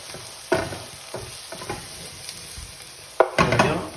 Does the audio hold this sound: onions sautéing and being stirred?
yes